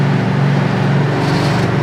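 A 1963 Chevrolet Impala SS 409 V8 pulls hard under acceleration in fourth gear, a steady, dense low engine roar heard from inside the car, loud and continuous with no voices.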